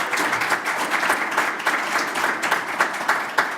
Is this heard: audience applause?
yes